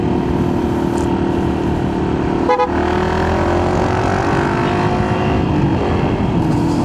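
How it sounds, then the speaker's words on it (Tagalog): Steady, dense city traffic rumbles through Ayala Triangle in Makati's business district, with a sharp car horn toot cutting in near the middle and faint engine hums layered throughout. "Medyo okay na yung flow ng traffic dito"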